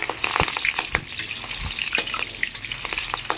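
Pakoras sizzle steadily in hot oil, with a dense crackle and frequent sharp pops and spatters, close and loud throughout.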